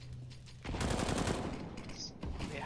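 Gunfire in the video game CS:GO: a steady burst of rapid shots, loud and close, kicks in after a quiet start and runs to the end, with a short sharp break near the close.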